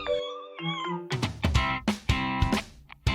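Pet cats meowing at an International Cat Day celebration, a couple of drawn-out mews followed by a quick run of loud, close, overlapping cries.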